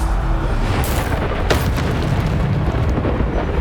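Bombarda spell blasts in Hogwarts Legacy go off as loud booming explosions, with sharp bursts near one and one and a half seconds over a continuous rumbling wash of game effects.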